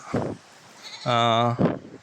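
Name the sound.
goat kid bleating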